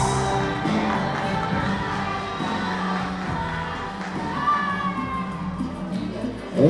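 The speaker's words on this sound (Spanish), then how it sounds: "¡Fuerte los aplausos!" Wedding reception crowd in Yurécuaro, Michoacán, Mexico, clapping and cheering steadily over background music, a dense continuous wash of applause and voices throughout.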